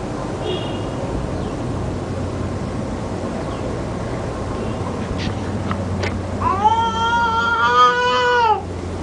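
A cat gives a drawn-out, wavering meow near the end, loud and close, after a quieter stretch of background noise with faint brief chirps.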